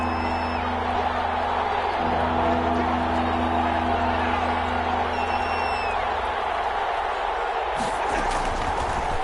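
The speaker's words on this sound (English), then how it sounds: "the crowd getting into it as we come up on a big 3rd down" A stadium crowd in an American football video game roars steadily ahead of a big third down, a dense continuous wash of cheering with commentary voices talking over it.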